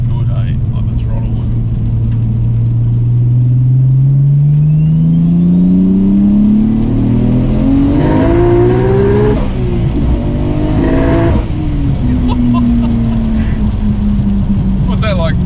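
Nissan R34 GTR engine climbing steadily in pitch under throttle, then surging and dipping through shifts, loud and close in the cabin with turbo whine above and occasional voices over it.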